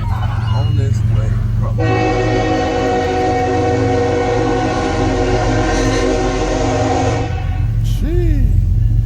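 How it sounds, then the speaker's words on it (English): Train in a video game sounding a long, loud horn over a low rumbling engine, a steady chord that holds for several seconds and then cuts off, with brief voice sounds around it. "This train getting ready to go, and we got another one"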